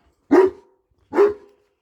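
A dog, one of a household's young Dogo Argentino or Doberman pups kept near chicken coops and a garden, gives two short barks about a second apart, fairly close and alone with no talk over them.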